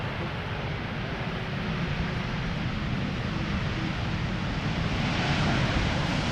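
An Air Canada Boeing 787-9 jet airliner at Schiphol gives off a steady, broad roar of engine noise that swells slightly toward the end, mixed with wind on the microphone.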